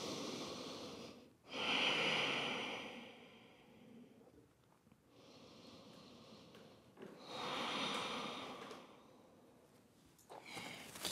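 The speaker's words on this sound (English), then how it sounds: "Deep breathing." Deep, slow breaths during a yoga session, long audible inhales and exhales through the nose and mouth, close and steady with short pauses between them.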